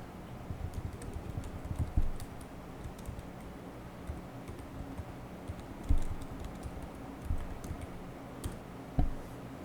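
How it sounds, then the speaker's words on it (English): Steady keyboard typing with rapid clicking keys and a few louder thumps, close by with no voices. "I can continue typing"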